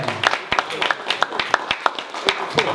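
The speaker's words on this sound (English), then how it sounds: "Give yourself another round of applause." A small group at a combat-sports press conference claps in loose, scattered handclaps, each crisp and distinct, with uneven gaps rather than a full ovation.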